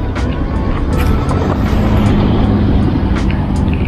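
Cars pass along a roadside street lined with buildings, a loud continuous rush of traffic with engine drone and the occasional brighter swish from a nearby vehicle.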